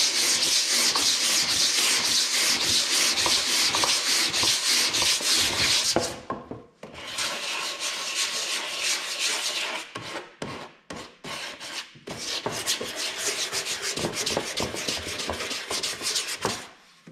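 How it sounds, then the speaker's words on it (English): Close, continuous hand sanding of Bondo filler on fiberglass bodywork for a 1984 Honda Goldwing GL1200 cafe racer build, with brisk back-and-forth rasping strokes, a brief pause, then resumed uneven scrubbing. "We'll get this sanded down."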